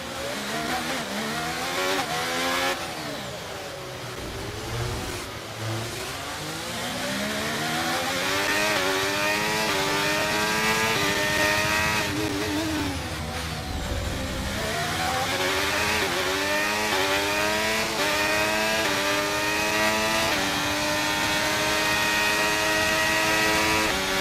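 A Formula 1 race car in the F1 23 racing game accelerates hard through the gears, its high-pitched engine whine climbing and dropping in repeated sweeps at close range, loud and steady throughout with no talk.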